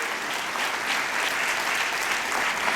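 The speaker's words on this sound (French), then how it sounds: "on va vous applaudir" An audience applauds at the opening of a Montreal Black film festival, a dense, steady wash of clapping from a full room.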